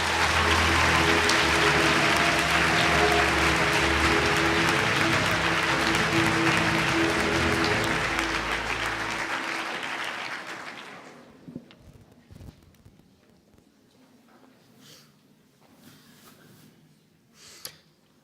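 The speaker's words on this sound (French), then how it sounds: "Merci d'applaudir Solène Champroy." Loud audience applause at a French student oratory competition final in Clermont, a dense sustained roar of clapping that fades out after about ten seconds, leaving a quiet room with a few scattered sounds.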